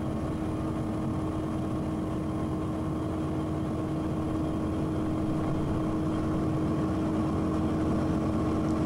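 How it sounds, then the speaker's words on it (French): Aquila light aircraft engine revving up for takeoff, a steady loud droning hum with a sustained tonal whine that climbs slightly in intensity over several seconds, heard from inside the cabin. "on a le moteur qui monte dans les tours."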